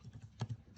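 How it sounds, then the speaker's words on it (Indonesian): Faint, quick keystrokes on a computer keyboard while a programming command is typed, soft close taps in a quick irregular run with one slightly louder clack. "Untuk menampilkan list di atas, kita dapat mengetikkan perintah"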